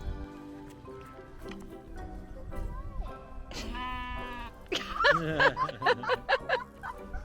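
Sheep bleat on a farm on the Dingle Peninsula in Ireland, a drawn-out wavering bleat midway followed by a cluster of loud, shaky bleats close by, with people's voices and chatter nearby.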